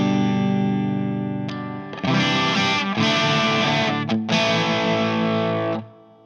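Electric guitar played through the Marshall channel of a Two Notes ReVolt preamp with a CabM+, crunchy distorted chords ringing loud and close, with a brief gap and short pauses between strummed bursts before a sustained fade.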